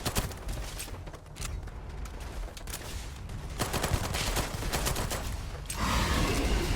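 Rapid gunfire from a Radburn weapon in the Starfield video game, a dense, loud stream of shots in quick bursts with brief gaps, continuing steadily throughout without talk.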